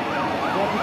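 An ambulance siren wails in rising and falling sweeps, moderately distant, over a low background rumble.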